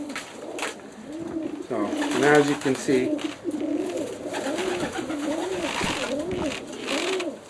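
Racing homing pigeons coo repeatedly in a loft, producing rhythmic, close, moderately loud calls while someone talks over them.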